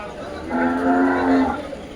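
A buffalo moos once on a farm at a livestock market, a long, loud, low lowing call that swells and fades over about a second, with no talk.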